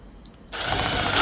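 Power drill driving a screw through a gutter into the fascia while installing an insulated roof receiver channel for a patio, starting abruptly after a quiet moment and whirring steadily and loudly close by.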